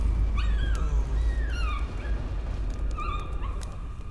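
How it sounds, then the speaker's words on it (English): A dog in the horror game Layers of Fear whimpers and yips in several rising and falling cries over a low rumbling ambient drone. "The idea of there being dogs in this game."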